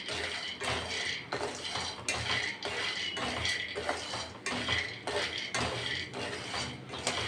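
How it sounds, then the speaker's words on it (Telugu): Peanuts frying in a pan for peanut chutney, stirred with a spatula that scrapes and clatters against the metal in a steady repeating rhythm, close and fairly quiet with no talking. "ఇవైతే వేగుతున్నాయి ఇప్పుడు."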